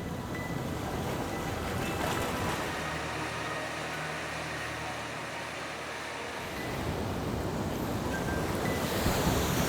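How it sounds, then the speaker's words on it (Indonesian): Ocean surf rolls in continuously on a beach on Indonesia's south coast, a loud, steady wash of breaking waves with wind buffeting the microphone and a low rumble swelling in the middle. "kalau kamera dapat itu ombak yang terakhir itu sampai sini ya"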